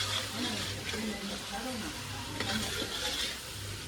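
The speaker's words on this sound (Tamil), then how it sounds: "நீ அந்த சைடு போய் நின்று கிண்டு சுப்பி." Biryani frying in a large pot outdoors while someone stirs it, a dense sizzle with scraping stir strokes, under intermittent voices and a low steady background hum.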